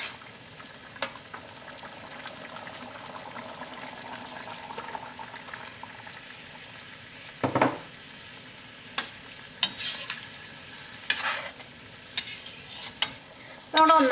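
Thick first-extract coconut milk simmers in a pot for a Kerala-style vegetable stew, giving a steady low bubbling hiss broken by occasional clinks and scrapes of a stirring spoon against the pot.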